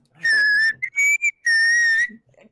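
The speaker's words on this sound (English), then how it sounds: "I have a loud whistle." Loud, shrill whistling in three bursts: two long sustained tones broken by short chirps, close and piercing, with no talking.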